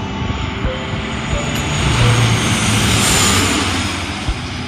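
A Bombardier propeller airliner's engines drone steadily and loudly throughout, a broad continuous roar that swells slightly toward the middle with no break.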